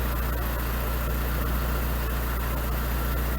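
A car engine idles with a steady low hum and faint mechanical chatter, while an ignition tester reads the RPM; the even tone stays constant throughout, with no speech.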